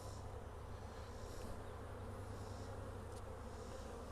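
Honey bees buzz around an opened hive as frames of capped brood are lifted, a soft continuous droning hum with no voices, steady and fairly faint throughout.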